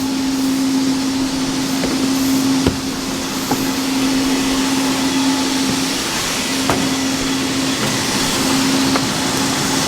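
Grain pours out of one farm storage bin into another, a steady loud rushing hiss with a constant mechanical hum underneath and a few faint knocks, no talking.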